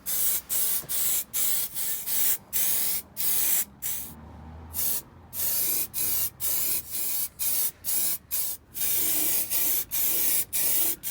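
Repeated bursts of aerosol underbody sealant spraying from a can onto a car's underside, steady hissing blasts separated by brief pauses, close and alone.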